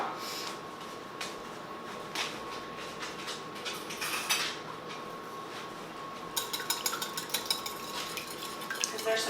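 A utensil clinks and scrapes against a bowl as large eggs are beaten for an apple butter pie, with repeated close tapping strokes that quicken toward the end.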